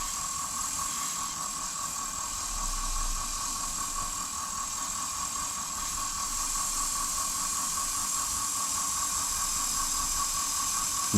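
A woodturning tool cuts walnut on a lathe, giving a continuous, even sizzling hiss with a steady high whine behind it, close and moderately loud for about eleven seconds with no talking.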